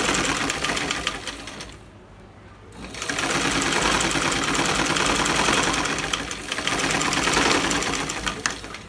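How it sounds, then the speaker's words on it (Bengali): Electric sewing machine stitching a salwar seam, a fast continuous mechanical whirr that stops briefly and then resumes, close and loud. "এই সাইডের যে সেলাই করেছি সেই মাপ অনুযায়ী সেলাই করে নিচ্ছি।"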